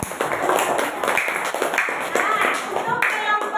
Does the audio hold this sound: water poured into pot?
no